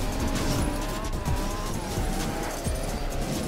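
Car racing in the Roblox game Pacifico 2, with a steady engine drone and rising revs, plus repeated tire squeals and skids, loud and continuous throughout.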